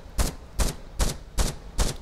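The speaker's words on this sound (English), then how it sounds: "It's kind of a light machine gun sound." Five evenly spaced sharp bursts of light machine gun fire in the video game From The Depths, each a short crackling blast, roughly every two-fifths of a second, loud and close with no talking.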